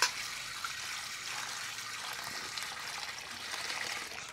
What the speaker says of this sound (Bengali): আর এখন একটু ধুয়ে নেব।